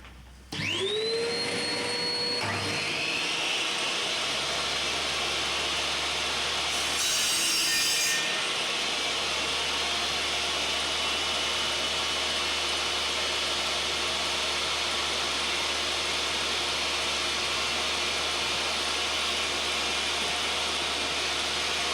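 A power saw in a DIY workshop spins up with a rising whine, then cuts wood in one long, loud, steady buzzing pass lasting about twenty seconds, with no talking.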